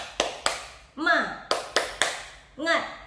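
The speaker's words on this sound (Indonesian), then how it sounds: "Tepuk semangat." Schoolchildren in a classroom perform a rhythmic spirit clap: sharp, close hand claps in quick groups of two and three, each group answered by a loud chanted shout from the class.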